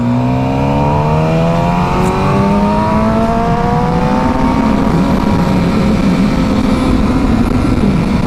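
A Suzuki GSX-R750 K7 motorcycle engine revs up through its exhaust, close and loud, its rising pitch sweeping upward in a continuous climb with wind rush underneath.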